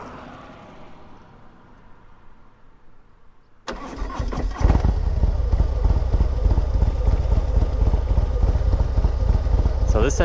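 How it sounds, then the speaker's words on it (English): Motorcycle engine with a Fuel Moto 124 big bore kit and S&S 475 cam starts up after quiet ambient sound, then idles loudly and close with a choppy, uneven lope for several seconds. "So this engine has the S&S 475 cam in it, and I'm sure you can hear that lope"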